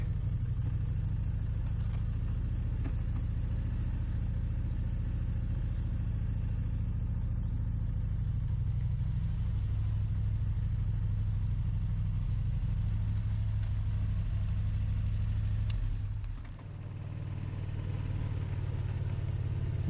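A Moto Guzzi motorcycle idles at a fuel stop on a cold March day among snow banks, a steady, close, low throbbing rumble that holds evenly throughout and dips briefly near the end.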